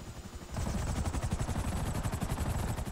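A helicopter in GTA 5 Online beats out rapid, loud rotor pulses that strengthen after a brief quieter start, then continue as an even chopping rhythm up close, with no talk.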